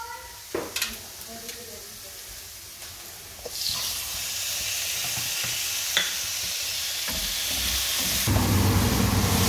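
Pork hits hot oil in a wok for banh mi and bursts into a loud, steady sizzle that swells and holds, preceded by a few clanks of cookware and some spoken words.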